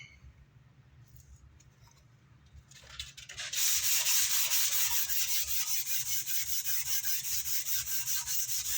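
After a few quiet seconds with small handling noises, steady rhythmic sanding of pearl binding on a 1969 Gibson Les Paul Deluxe with a sanding block begins, a close, rasping back-and-forth rub that continues to the end.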